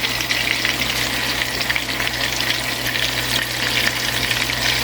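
Burger patties fry in a pan with a steady, dense sizzle that stays loud and even throughout, with no voices over it.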